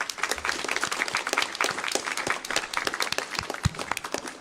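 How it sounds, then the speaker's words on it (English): Debate competition participants clap for themselves in a hall, a dense, steady patter of many hands lasting throughout, close and fairly loud with a few sharper individual claps standing out. "every one of the participants, please clap for yourself"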